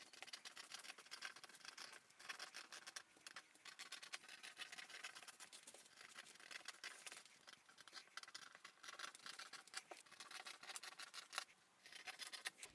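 Scissors cutting out a paper sewing pattern for an armhole princess bustier top, with quiet, close snipping and paper rustling in a steady, rapid rhythm and no talking.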